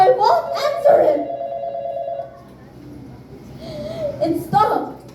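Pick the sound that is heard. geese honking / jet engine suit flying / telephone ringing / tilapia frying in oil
telephone ringing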